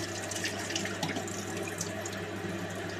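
Soaking water poured off wheat into a sink during kitchen cooking, a steady continuous splashing rush of liquid with a faint hum beneath, close and even throughout.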